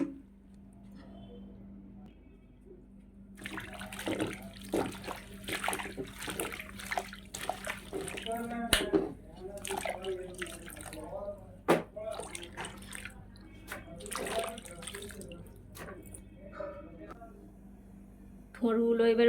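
Tap water runs over cut banana stem pieces being washed in a kitchen, a soft splashing trickle with drips, while a person talks over it.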